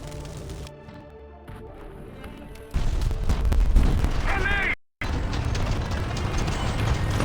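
Cannon fire in the video game War Thunder, heavy booming blasts that jump in loudness partway through and continue densely under game noise, with a brief dropout before the barrage resumes.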